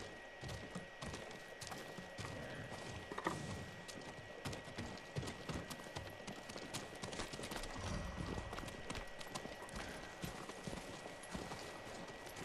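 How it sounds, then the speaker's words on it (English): Horse hooves clip-clop steadily in the video game Ghost of Tsushima, a continuous rhythmic run of close, crisp steps over ambient game sound with occasional mechanical clicks. "I'm not letting you leave without a good horse."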